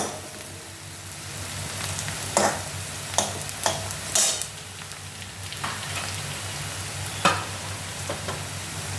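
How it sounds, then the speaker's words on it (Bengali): Fish frying in a pan for a Bengali fish curry, a steady close sizzle with occasional sharper pops and crackles, with no talking. "আর একটু ভাজা হবে।"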